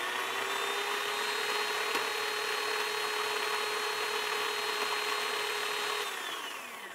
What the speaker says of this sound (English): First, we'll start with the Breville Smart Grinder Pro.